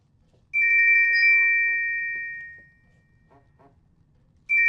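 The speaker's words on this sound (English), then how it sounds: "That phone's going to ring" A telephone rings in a domestic drama scene with two electronic bursts, the first a long, bright warble that slowly fades out and the second starting again at the end, with quiet movement underneath and no talking.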